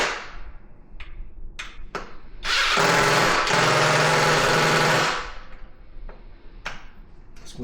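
A torque drill whirs loudly for a few seconds, with short bursts of mechanical noise before and after the main run.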